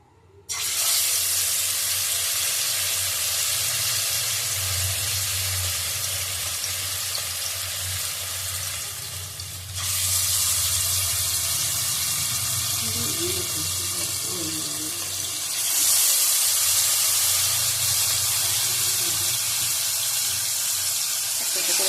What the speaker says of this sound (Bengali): হয়েই গেছে এবার আমি এক এক করে চিকেনগুলো ছাড়বো